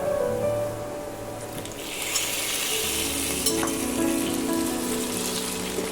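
Prawns hit a hot pan of butter, garlic and chilli flakes, with a loud continuous sizzle and spatter close by, swelling as they land and then frying on steadily.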